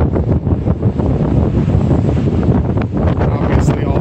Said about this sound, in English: I don't know if you can even hear me with the wind